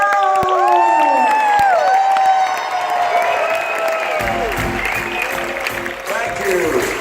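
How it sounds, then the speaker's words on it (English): A convention audience applauds and cheers for a speaker, with bursts of clapping, whoops and shouting voices throughout. "So please give him another round of applause for Mr. Les Brown."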